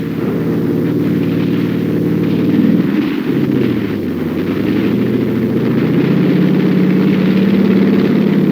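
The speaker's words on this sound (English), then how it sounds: "A bulldozer smothers a red dugout." A bulldozer smothers an enemy dugout in Korean War combat footage: a loud, continuous diesel engine drone with heavy low rumble that dips and strains midway, then resumes steadily.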